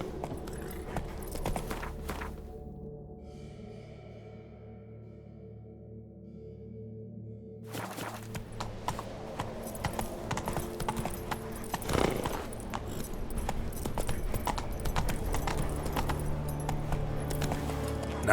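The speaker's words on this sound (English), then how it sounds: "Not so fast, Roach" Hoofbeats of the horse Roach clip-clopping in The Witcher 3, a steady close rhythm over game ambience, briefly dropping away before resuming and building toward a gallop.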